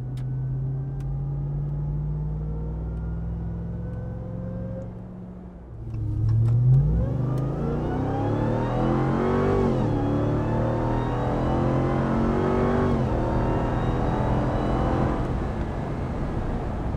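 A 2021 RAM 1500 TRX pickup truck, a supercharged V8, cruises at a steady engine drone, then downshifts and accelerates hard on the road, the loud rising roar sustained from inside the cab with no talk.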